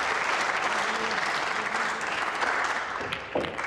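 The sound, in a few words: audience applause at pool match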